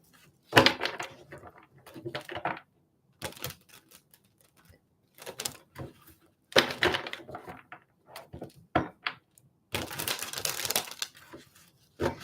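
Bursts of crisp riffling and papery slapping come and go in irregular clusters, separated by short quiet gaps, close and moderately loud.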